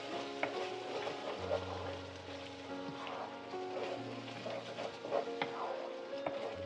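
Garam masala and spices are stirred and cooked in a pan for mushroom tikka, making a continuous crackling sizzle with occasional utensil clinks and scrapes and a low tonal hum underneath, and no talking.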